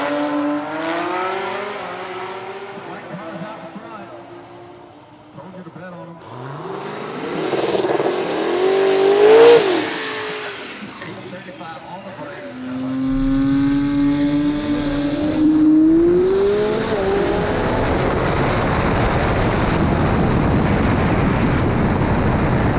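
A 2000HP billet 2JZ-powered Toyota Supra on a drag strip test pass, its engine revving hard through rising gear pulls with shifts, loud and close, then roaring steadily as it runs down the track.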